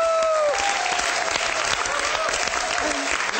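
Students clap together in a classroom, a dense, steady round of applause filling the whole stretch, with a brief whistle-like tone near the start.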